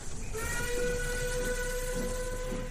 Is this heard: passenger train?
yes